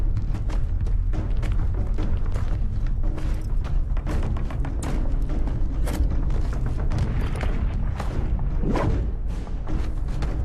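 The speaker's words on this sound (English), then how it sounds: "Oh, he hears gunfire." Dense, continuous booming and thudding like heavy gunfire and explosions from human guns in a Halo battle, loud and sustained throughout with no pauses and no voices.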